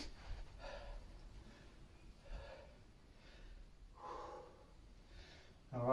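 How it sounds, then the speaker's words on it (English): Heavy, rhythmic breathing during a home circuit workout of dips: repeated breathy exhalations and gasps arrive about every second, close and fairly soft, with a louder rustle at the end. "Can hear my breathing getting heavier."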